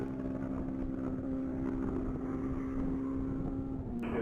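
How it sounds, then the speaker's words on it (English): A Suzuki Hayabusa motorcycle running at top speed on a mile-long straight speed course, a steady distant engine drone with a sustained tone and wind rush, continuous and moderately faint. "Derek Berger just took off on the line, motorcycle 1776. That's the Hayabusa"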